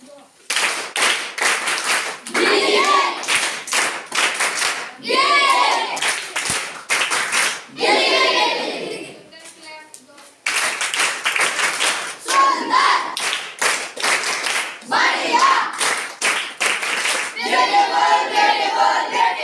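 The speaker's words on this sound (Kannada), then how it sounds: "ಇವತ್ತು ಜೋರಾದ ಕೆಲವೊಂದು ಚಪ್ಪಾಳೆಗಳು ಹೇಳ್ತಿ ಚಪ್ಪಾಳೆ ಕ್ಲಾಸ್ ಹೇಳ್ತಾರೆ" A classroom of students clapping loudly in repeated rhythmic rounds of sharp hand claps, broken by short gaps, with a teacher's voice heard in between rounds.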